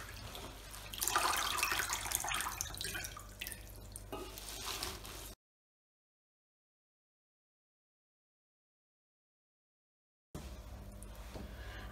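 Glass of water poured into an AMC Easyquick cooking pot over vegetables in a perforated basket, a loud splashing gush lasting several seconds that fades, followed by silence and then softer trickling.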